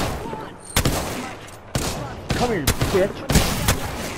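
Bursts of gunfire in an Apex Legends match, sharp repeated shots landing at irregular intervals over a steady game backdrop, with someone shouting over the shooting.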